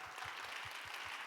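A youth worship congregation at a Sunday church service claps in welcome, a soft, distant, even patter of many hands with a faint low rhythmic thump underneath.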